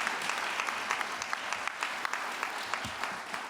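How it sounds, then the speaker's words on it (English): An audience claps at a community awards ceremony, a steady burst of applause with scattered individual claps standing out, moderately loud and filling the room. "Round of applause"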